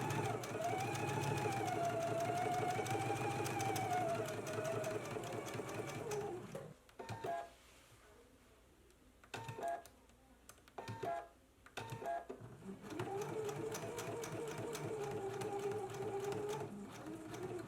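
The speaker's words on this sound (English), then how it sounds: "Let's go ahead and stitch along the stitching line now." A sewing machine stitches along the marked stitching line of a jacket, running in long steady bursts broken by brief pauses, with a voice talking faintly over parts of it.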